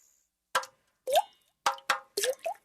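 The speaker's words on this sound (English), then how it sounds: "That's the sound of water coming from leaking pipes." Water from leaking pipes drips and plops in a quiet space, six distinct drops over about two and a half seconds, irregularly spaced, close and clear against near silence.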